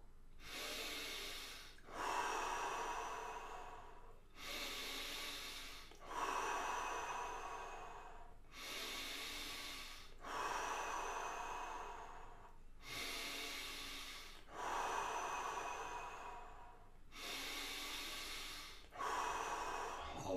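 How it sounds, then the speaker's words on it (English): Deep, slow breaths during a guided breathing session, roughly ten strong cycles of noisy inhale and exhale with snort-like rushes of air, close and steady, with no talking. "Keep on breathing deep."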